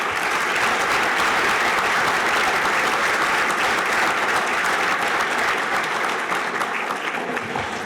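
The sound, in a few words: audience applause for Rogers Pharmacy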